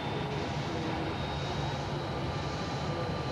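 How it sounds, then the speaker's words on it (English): Airliner engines at Miami International Airport spool up before departure, a steady, broad roar with a faint whine, heard from a distance and unbroken. "The engines are cranking up."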